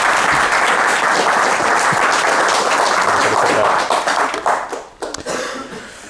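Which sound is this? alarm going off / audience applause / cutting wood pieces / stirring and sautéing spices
audience applause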